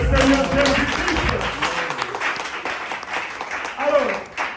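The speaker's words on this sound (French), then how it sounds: "Applaudissez pour le Seigneur Jésus-Christ." Church congregation clapping and cheering, a thick burst of applause that thins slightly toward the end, heard under a voice speaking over it.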